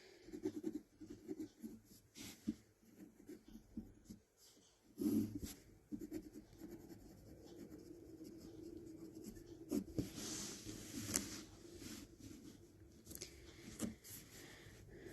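A pen scratching on paper while a K-map grid is drawn, with quiet, steady strokes and a few slightly sharper taps, all close up and faint.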